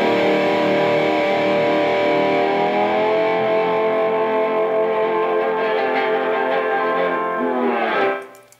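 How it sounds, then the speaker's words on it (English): A single sustained distorted guitar note rings out and holds, then slides down in pitch at the end and stops. "So we get a little distortion here."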